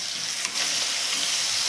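Chopped onions frying in mustard oil with asafoetida in a pan, a steady close hissing sizzle with a brief stirring scrape, no voices.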